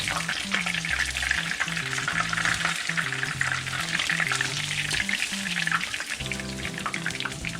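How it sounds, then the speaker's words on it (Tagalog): Oil sizzling and frying steadily in a pan while sautéing, a dense continuous crackle close by, with a rhythmic low scraping or knocking underneath throughout. "Ngayon, ang susunod natin, maggigisa naman tayo."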